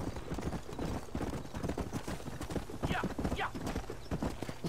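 Rapid, steady hoofbeats of a galloping horse in Red Dead Redemption, loud and continuous, with brief voices and a whinny-like sound partway through.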